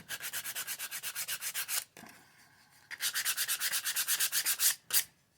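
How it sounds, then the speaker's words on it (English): Wooden corners are hand-sanded with 120 grit sandpaper, producing rapid rhythmic rasping strokes close up, about four per second, pausing briefly before resuming in a second quick run and a final few strokes. "I'll use some sandpaper just to break the corners."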